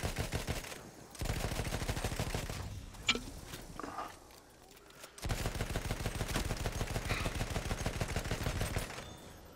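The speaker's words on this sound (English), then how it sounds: "I'm shooting out of here, man." Gunfire in the World War I shooter Battlefield 1: dense bursts of rapid automatic fire in two long stretches separated by a short lull with a few isolated shots, close and loud.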